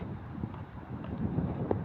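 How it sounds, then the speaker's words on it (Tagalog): Soft, low wind rumble buffeting the microphone, fairly faint and continuous, with a few muffled bumps in the background. "Buti mahangin ba? Kahit mainit."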